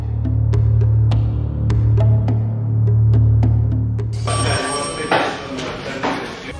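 A telephone bell rings in repeated bursts for several seconds, then stops as a voice begins speaking.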